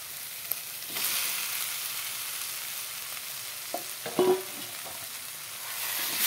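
Taro stolons and potatoes stir-fried in spice paste, with a steady soft sizzle and a few scraping stirs of the spoon near the middle, no voices.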